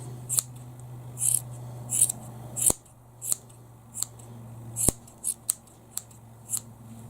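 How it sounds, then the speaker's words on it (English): Scissors snip yarn ends on a thick, overfilled pom-pom, about a dozen crisp, close cuts in an uneven rhythm against a low background hum, no voices. "So you're just going to snip off these longer bits."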